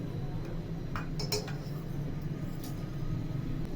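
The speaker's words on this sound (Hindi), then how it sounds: "चम्मच चलाएंगे, चिपके ना टॉफियां।" A spoon stirs toffees into melted sugar in a pan for ice-pop syrup, giving a few light clinks and scrapes over a steady low background hum, with no talking.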